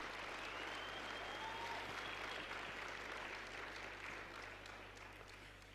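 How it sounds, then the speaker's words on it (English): An audience at a South African education summit applauds its government ministers, a steady, dense wash of clapping that stays loud throughout before easing slightly toward the end. "A very warm and big round of applause for our ministers."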